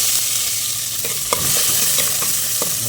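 Onion frying in a pan with mustard seeds for vegetable semolina, giving a loud continuous sizzle broken by a few spatula scrapes as it is stirred.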